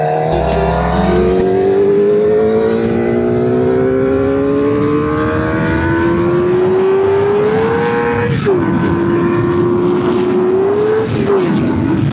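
A QJMotor SRK 450 RR four-cylinder motorcycle engine revs hard and loud, its pitch climbing steadily through a long pull with a quick dip and recovery near the end, close and continuous.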